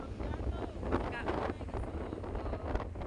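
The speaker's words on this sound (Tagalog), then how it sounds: "Hindi tayo maririnig ng ano kasi sobrang lakas ang hangin." Strong coastal wind buffets the microphone in a steady, rumbling roar with gusty swells and crackling bursts. Faint voices are partly masked beneath it.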